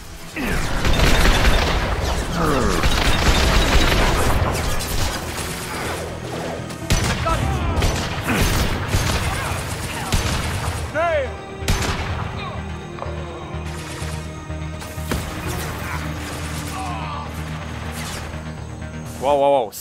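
Gunfire and rocket blasts in a Mass Effect 2 refinery firefight, with dense rapid bursts and heavy booms at first, then scattered sharp shots and explosions, while a voice talks over parts of it.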